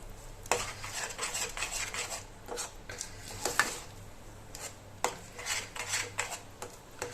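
Rice flour dough for steamed dumplings is stirred and sautéed over a low flame, a metal spoon scraping and clinking steadily against the pan in close, repeated strokes.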